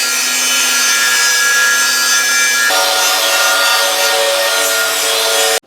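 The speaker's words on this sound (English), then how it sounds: "I'm going to use the table saw because I need this to be accurate as possible" A table saw cuts through a homemade tailgate extension for a GMC Sierra, a loud steady whining cut that shifts pitch about halfway through and stops abruptly near the end.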